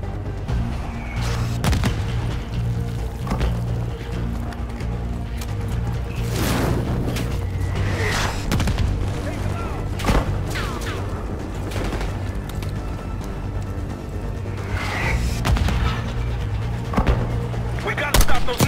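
Mortar fire and explosions in the shooter Call of Duty: Black Ops 6, with repeated heavy booms and blasts over a constant loud battle din and steady background music.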